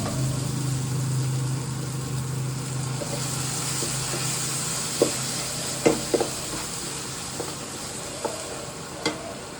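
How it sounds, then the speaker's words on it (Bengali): Chicken cooks in a pan, giving a steady, broad sizzle with a low hum underneath and a few sharp clicks and taps of stirring scattered through the later part. "আজকে যখন এই চিকেনটা রান্না করছি না"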